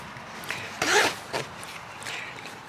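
A zipper at the foot of Klim Badlands Pro motorcycle pants is drawn up in a couple of quick rasping pulls, close and brief, with light rustling of the fabric between them.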